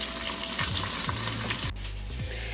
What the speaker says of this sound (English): while the rest of our oxtails are finished browning